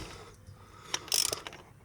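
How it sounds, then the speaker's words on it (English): A hand ratchet slowly tightens the bolt of a crank seal installer on a 2002 Mazda Tribute, giving a short run of quiet, close clicks near the end. "we're just going to start out slowly with a ratchet"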